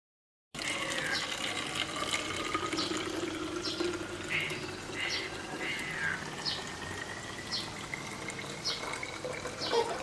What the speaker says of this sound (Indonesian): tuangkan cairan tersebut ke dalam botol plastik, tuangkan dalam keadaan masih panas